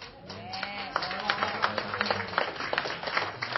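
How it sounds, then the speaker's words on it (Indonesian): Sparse clapping from a small debate audience, a modest patter of individual claps over a low room hum, fairly steady throughout. "tepuk tangan bareng semua ini."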